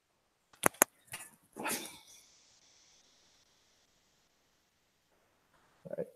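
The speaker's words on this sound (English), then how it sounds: "my dog is being inconvenient" A dog gives a few sharp barks and yips at a distance indoors, followed by a fading whine and long quiet before another faint sound.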